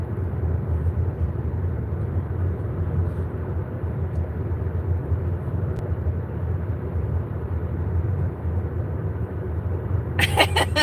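A big, loud pickup truck rumbles steadily close by for the whole stretch, a heavy low engine drone with a brief rattle near the end.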